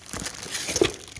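A plastic Ziploc bag is handled while an angle grinder is unboxed, giving a short, soft burst of crinkling and rustling close by, with no talk.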